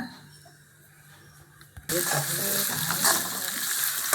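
Quiet kitchen sounds, then a sudden loud sizzle as spices hit hot oil in a kadai for tempering, crackling and spitting steadily to the end.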